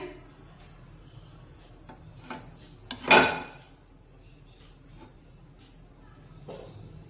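A plate of nankhatai is set into a heated kadai with a single sharp metallic clank, heard close over a steady high insect-like whine and faint scattered kitchen clinks.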